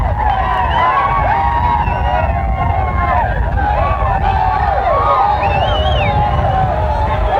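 An excited street crowd during the 1991 Washington, D.C. riots roars in a dense, constant babble of shouting voices, loud and close, with no pause.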